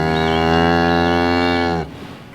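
A cow on a farm lets out one long, loud, close moo near her calf. The moo holds steady and then cuts off sharply.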